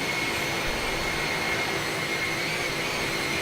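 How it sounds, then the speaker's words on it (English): Jet engines on a DHL iniBuilds Airbus A300 in Microsoft Flight Simulator 2020 hold a steady, loud roar with a high whine running through it. No one speaks. "Carl's saying that the engines sound awesome spooling up"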